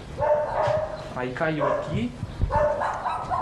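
Dogs bark in the backyard of a house, a few yips and barks mixed under steady close conversation between people.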